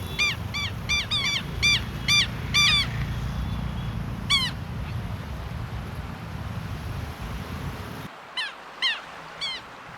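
Aquatic birds calling at Ranganathitu bird sanctuary near Mysore, home to painted storks: repeated harsh honking and squawking calls in bursts over a steady low rumble of background noise, with a few more calls after a sudden drop in the din.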